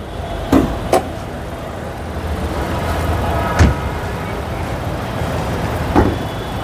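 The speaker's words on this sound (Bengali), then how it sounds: "ইঞ্জিন তো সাউন্ড স্মুথ আছে, একদম স্মুথ" A Honda Vezel's engine idles steadily at close range, a smooth continuous rumble broken by a few sharp knocks or clicks.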